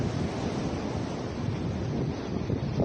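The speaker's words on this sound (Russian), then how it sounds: "Видите, да, какие волны" Strong sea waves surge onto a beach at Golubitskaya in Krasnodar Krai, whipped by a powerful wind, a loud, steady wash of surf and gusts roaring throughout with no break.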